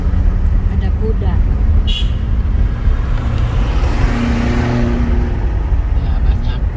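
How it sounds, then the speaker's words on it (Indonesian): Cars speeding along a cool mountain road toward Malino, a steady near road roar with engine drone and a passing vehicle swelling midway, under faint background talk. "banyak mobil-mobil yang menuju ke Malino dengan kecepatan yang tinggi"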